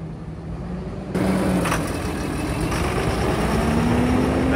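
A repaired vehicle engine runs as it is driven around the block, a steady low rumble that grows louder and rises slightly in pitch as it pulls away.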